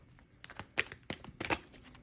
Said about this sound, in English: Let me give these a couple little shuffles, and then I'll start to pull.